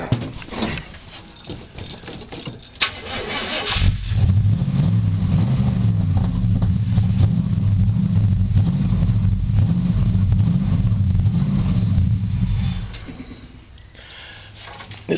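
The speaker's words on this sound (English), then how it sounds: "it's not wanting to idle, so I'm going to turn the idle up on it a little bit" An Oldsmobile Cutlass G-body engine catches and runs with a loud, lumpy, uneven idle for about nine seconds, low rumble steady but rough, then cuts out, leaving quiet shuffling.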